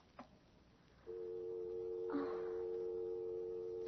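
A steady telephone dial tone fills the line after a radio-drama phone call is hung up, starting abruptly with a click and holding on, continuous and fairly clear, with a brief faint rustle midway.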